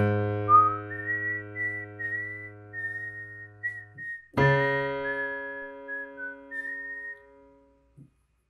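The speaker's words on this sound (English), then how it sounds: "challenge yourself even more by whistling the right hand part" A clear whistled melody of a song's chorus plays over sustained low piano left-hand notes, with a brief sharp thump midway before the tune and chords carry on.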